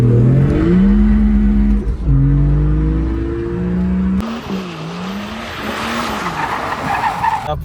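A stage 2 tuned BMW E46 330cd diesel accelerating hard in third gear, its engine note climbing steadily in pitch and loud throughout, with a roughened, noisier stretch in the second half.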